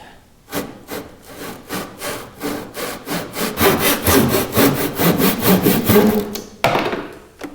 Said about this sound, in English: we're going to very carefully cut down right around the center of the strips